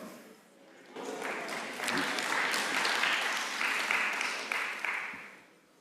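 Applause from a conference audience at an evening session swells from quiet into a full, sustained wash of clapping, holds for several seconds, then begins to taper off.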